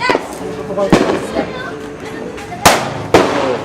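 Sharp New Year firecracker bangs at a family party, about four loud nearby cracks at irregular intervals, with people talking and calling out in between.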